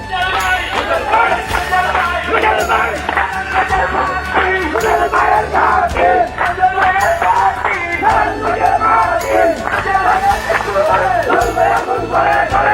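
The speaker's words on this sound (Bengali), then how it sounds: "রাজু পলাশের নেতৃত্বে শোক শোভাযাত্রায় নেতাকর্মীরা ভাষা শহীদদের স্মরণে স্লোগান দেওয়ার পাশাপাশি জাহিদ হাসান রোজেলের পক্ষেও বিভিন্ন স্লোগান দেয়" Activists at a mourning procession for the language martyrs on February 21 chant slogans as a loud, dense crowd. Their voices merge into a continuous rhythmic clamour, close and unbroken.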